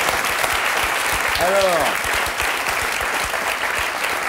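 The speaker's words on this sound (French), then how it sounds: "on applaudit tous les Français." A TV studio audience applauds steadily throughout, the clapping full and continuous, while a voice speaks briefly over it near the middle.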